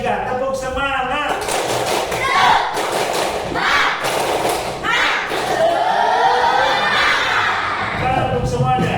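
Schoolchildren in an Indonesian classroom perform a tepuk semangat rhythmic clapping cheer, with bursts of patterned claps, thumps and excited shouting voices mixed loudly together.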